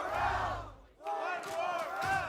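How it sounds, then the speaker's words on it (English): An esports arena crowd chanting and roaring for Furia, rising and falling rhythmic group shouts that fill the space, loud and near, with a short dip before the chant swells again. "I think that's the first time I've ever heard the crowd rooting against Sentinels"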